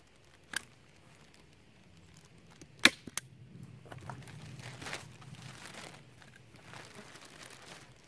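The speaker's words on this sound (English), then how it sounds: "I'm going to basically staple it into this side of the raised bed" Staple gun driving staples through plastic sheeting into the side of a wooden raised garden bed outdoors, making a couple of sharp snapping clacks, then crinkling plastic and soft handling noises, with no talk.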